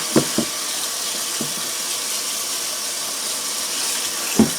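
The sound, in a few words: tap water running over collard greens in a pot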